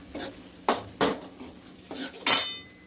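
Metal pot lid set onto a cooking pot of dhaba-style rajma, with several sharp clanks and scrapes of metal on metal, close and fairly loud, no talking.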